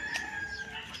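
A chicken in a garden lets out a brief call, faint and somewhat distant, over quiet outdoor background with no talk.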